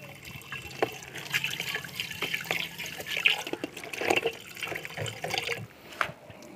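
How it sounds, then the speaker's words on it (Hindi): Water poured through a fine sieve while washing computer scrap for gold recovery, a steady splashing trickle with scattered drips and sloshes running throughout, close and moderately loud. "ये बारीक छने में इसलिए डाल रहे हैं अगर कोई गोल्ड पार्ट या पार्टिकल पानी के साथ जाता हो इसमें रुक जाए।"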